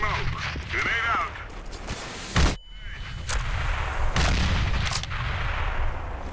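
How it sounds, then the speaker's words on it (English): A grenade is thrown in the game Counter-Strike: GO, with a sudden loud burst midway amid clattering in-game gunfire, and a player's voice is heard talking over it. "Throwing smoke. Grenade out."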